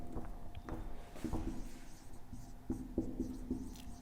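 Chalk or marker strokes as a chemistry teacher writes a question on the classroom board: a short series of soft, close scratches and taps in a quiet room, with no talking.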